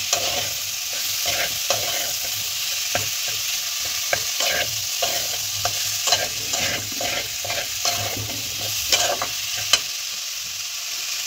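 Tomatoes and spices sautéing in a pan for a vegetarian kohlrabi curry, with steady frying sizzle and repeated scraping stirs of a spatula, close and moderately loud, no voices.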